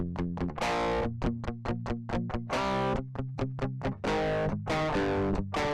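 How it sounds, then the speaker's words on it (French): Aggressive distortion effect on a loud riff of rapid staccato chord stabs and crunchy sustained notes, dense and harmonically saturated, played alone with no talk. "vous avez la distorsion qui correspond à un son plus distordu et agressif"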